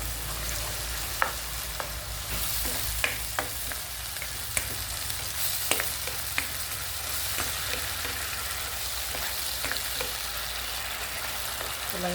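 Corned beef fries in a pan with a steady, broad sizzle and scattered small pops and spatters, close and even throughout with no talking.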